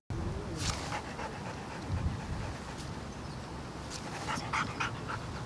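Police service dogs at a canine training centre of the regional police pant steadily close by, with rhythmic quick breaths and small incidental noises and no talking.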